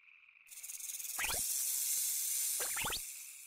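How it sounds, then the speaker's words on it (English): A snake hisses in a long, steady, breathy rush that swells and holds near the listener, with two brief chirpy bursts of another animal sound layered over it. "I see a snake."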